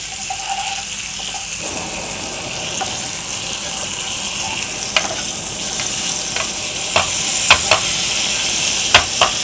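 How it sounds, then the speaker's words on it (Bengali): Cauliflower is stirred in a frying pan over low heat with a steady soft sizzle, and a spatula scrapes and taps against the pan several times, louder toward the end. "ফুলকপি দিয়ে আমরা একটু নেড়ে চেড়ে নিচ্ছি, কম আঁচে করতেছি।"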